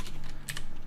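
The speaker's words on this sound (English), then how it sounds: "just had a new keyboard, so my typing's a little bit funny at the moment." Someone types on a new computer keyboard, a quick close run of light key clicks with a few sharper taps standing out, quiet and alone.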